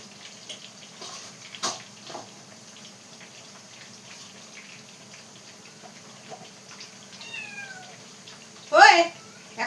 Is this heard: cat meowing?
yes